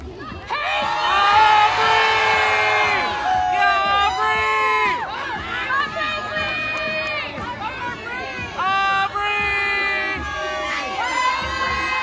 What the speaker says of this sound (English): give them a big round of applause. Now let's hear you scream out the name that you want to win tonight.